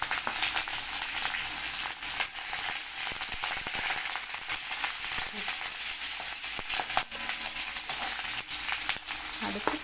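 Cumin, curry leaves and green chilli frying in hot oil, a loud, dense, continuous sizzle and crackle running unbroken throughout, close up, with no talk.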